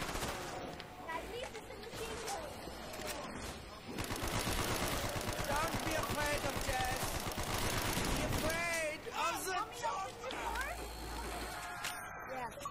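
Rapid machine-gun fire in an Xbox zombie video game, sustained bursts of gunfire with a dense stretch in the middle, while people talk over it.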